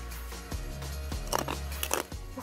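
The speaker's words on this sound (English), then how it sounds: "crunch from the sunflower seeds" Someone bites into and chews a kale salad with croutons and sunflower seeds, giving several sharp, close crunches in an uneven rhythm, quiet and without talk.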